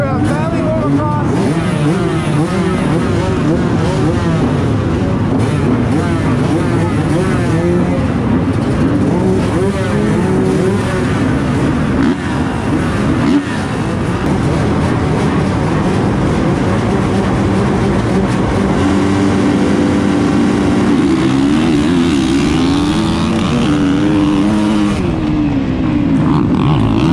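Motocross motorcycles racing in Moto 1 Open C at the Michigan State Championship at Valley Motocross, a dense, loud roar of several engines revving and shifting continuously, with a voice talking over it.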